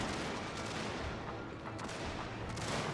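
Distant rapid musket and cannon fire rumbles continuously through a strategy video game battle involving Prussian troops, a dense, steady wash of crackling shots with no clear gaps.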